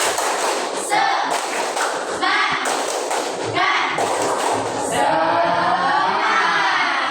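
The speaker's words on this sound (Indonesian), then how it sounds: "tepuk semangat." A standing classroom of pupils performs a rhythmic spirit clap, sharp hand-claps landing in quick patterned bursts, with children's voices chanting along between the beats.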